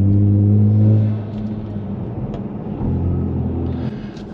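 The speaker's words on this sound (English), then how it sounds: "it makes it sound like you're driving a manual car to other people outside" A car engine hums strongly, then the pitch drops as the driver shifts with paddle shifters in manual mode, followed by a renewed rise in engine drone.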